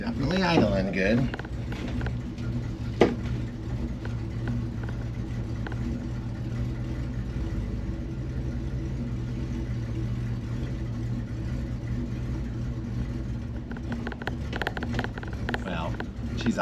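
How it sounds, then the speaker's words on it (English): Range Rover Classic overland rig engine idling, a low, steady rumble held throughout, with a voice speaking briefly near the start and some handling noises over it. "It's definitely idling good."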